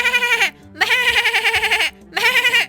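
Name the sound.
person imitating a goat bleat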